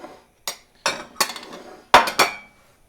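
A metal fork strikes and scrapes a plate while stirring egg, giving five or six sharp clinks and rattles in irregular bursts with short silences between them.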